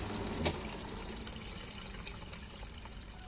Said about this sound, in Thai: กดสตาร์ทใหม่นะครับ น้ำออกนะครับปกติเนาะ